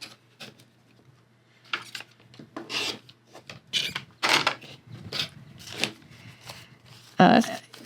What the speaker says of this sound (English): We need to cut this corner off so we can put our last triangle on.